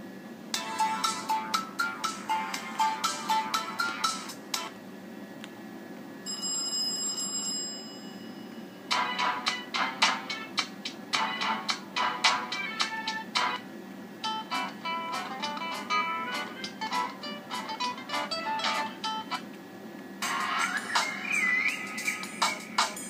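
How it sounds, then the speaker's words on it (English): Several Sony Ericsson Xperia X10 Mini ringtones play one after another, each a bright electronic melody, separated by short pauses. "And now I'm gonna show you, for example, the ringtones"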